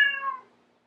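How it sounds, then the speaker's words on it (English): A house cat gives one short, clear meow that is close and loud at the start, then fades out quickly, with no other voices around it. "do you hear my cat?"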